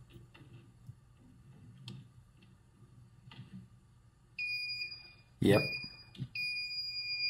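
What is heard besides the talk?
circuit breaker finder receiver beeping at the correct breaker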